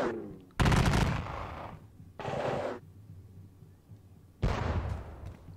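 Bursts of gunfire from the Napoleonic Battles Leipzig wargame crackle out in three loud volleys separated by quieter gaps, with no speech over them.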